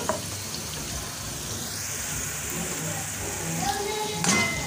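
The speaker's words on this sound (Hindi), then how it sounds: "हमारे जो नट्स हैं वो फ्राई हो चुके हैं, आप देख सकते हैं गोल्डन कलर में आ गया।" Nuts frying in oil in a pan for sheer khurma, an Eid sweet vermicelli milk dish, give a steady, close sizzle with a few louder crackles toward the end, and no one speaks.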